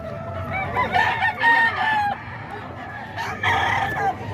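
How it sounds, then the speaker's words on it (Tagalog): Roosters crow in quick succession, two drawn-out calls at moderate distance, with faint clucking in the background. "Maraming manok si Boss Rod mga kaidol."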